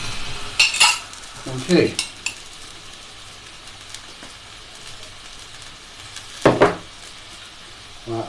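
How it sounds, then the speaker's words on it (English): Spices for chicken kadai stirred in a pan on a home burner: a low, continuous sizzle under sparse, loud scraping and clanking strokes of a utensil, with a single brief word spoken. "stir that round again until the spices start sticking"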